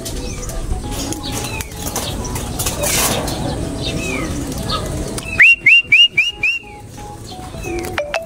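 Pigeons' wings flap in a quick burst of several loud beats as they take off nearby, over steady background noise with faint whistling calls.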